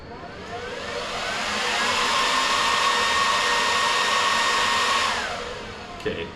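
An Ejoyous PCP air compressor pump runs loud and close, a steady high-pitched whining drone that ramps up, holds for several seconds, then winds down and cuts off.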